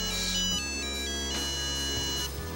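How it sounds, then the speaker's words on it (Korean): A mobile phone plays its ringtone loud and close, a steady electronic melody that carries on unbroken with no voices. "손님 전화 받으세요."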